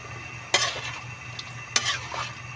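A spoon stirs menudo in a metal cooking pot, giving two sharp scraping clinks about a second apart with softer rattling scrapes after each, over a low kitchen hum.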